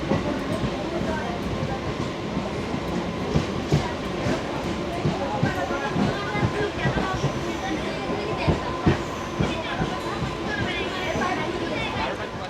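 A local train on the Howrah–Digha line pulls into Contai station with a steady rumble and rhythmic wheel clatter from inside the carriage. Passengers chatter under the noise.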